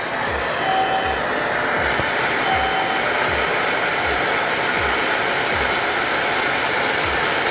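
A Nortel Mega Minor glassworking torch roars with a loud, constant rushing flame that stays close and steady throughout, with faint soft thumps pulsing underneath.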